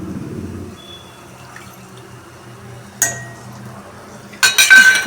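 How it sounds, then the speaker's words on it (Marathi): Tamarind pulp poured into a cooking pot after the tempering is fried, with quiet low sizzling, then a sharp pour or clink and a louder splashing, clattering burst near the end. "आता यामध्ये चिंचेचा कोळ घालून घ्या."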